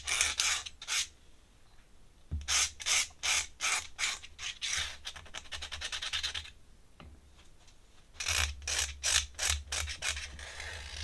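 Ink pen drawing a thin frame on paper makes close scratchy rasping strokes, short bursts in irregular rhythm with brief pauses between runs of quick repeated scratches.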